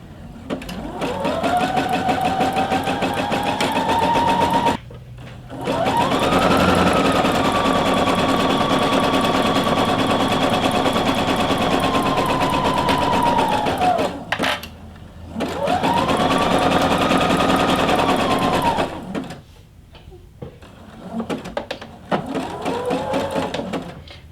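A sewing machine stitches a stretchy fabric reusable produce bag in long, loud, steady whirring runs, close up, broken by short pauses between seams and a final brief burst, with no one talking.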